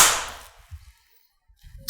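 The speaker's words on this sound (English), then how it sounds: "I've always been a fan of the way Titleist fairway woods sound. I think they have a very good, crisp sound to it." A Titleist TSR fairway wood strikes a golf ball in one sharp, crisp crack that decays over about half a second, followed by faint outdoor rustle and no talking.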